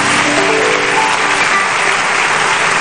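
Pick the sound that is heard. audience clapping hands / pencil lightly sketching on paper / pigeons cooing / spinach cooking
audience clapping hands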